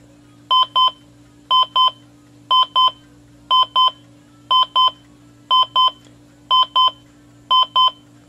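Digital clock radio alarm beeping in steady pairs of short, high tones, repeating about once a second, loud and clear with a faint hum underneath.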